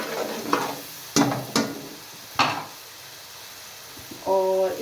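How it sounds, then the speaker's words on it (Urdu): Spices frying and being stirred in a pan with a splash of water, heard as several sharp scraping sizzle bursts from a spoon, close and fairly loud, ending with a brief tonal sound. "بس آپ نے اس کو 1 منٹ تک اس طرح بھون لینا ہے"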